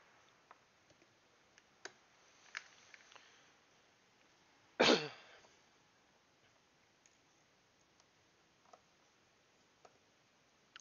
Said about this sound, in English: Ah, the joy of having an ever so slight cough.